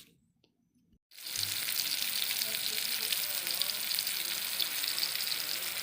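Water goes into a pan holding fish, turmeric and salt and starts a loud, steady sizzling, bubbling boil after a quiet second, continuing close and unbroken to the end with no talk.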